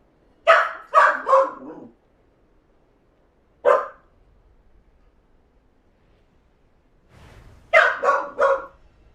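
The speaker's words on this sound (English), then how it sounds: "Alma! What you woofing for?" Alma the dog woofing in short bursts: a quick volley of three barks, a single bark a couple of seconds later, then another rapid run of three or four, fairly close and loud, with quiet pauses between.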